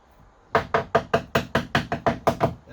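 Knocks on the side of a boat hull during a marine survey, checking for delamination: about a dozen evenly spaced, sharp raps close by, loud and steady, with no talking.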